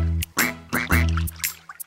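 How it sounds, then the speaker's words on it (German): Cartoon ducks in a German children's song give a quick series of about four nasal quacks, close and clear, spaced with short gaps. "Ich sehe 5 kleine Entlein. 5 kleine Entlein schwimmen durch das Schilf."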